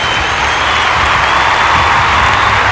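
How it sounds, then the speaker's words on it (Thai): A loud audience at an Atomy cash prize award ceremony applauds, a dense, steady wash of clapping that holds evenly throughout with no break. "เรามาส่งเสียงปรบมือดังๆ และแสดงความยินดีให้กับท่"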